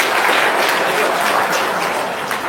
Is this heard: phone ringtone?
no